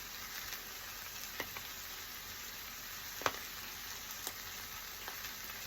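Bopis sautéing in a pan, a steady soft sizzle with a few faint clicks of the utensil scattered through, close and quiet.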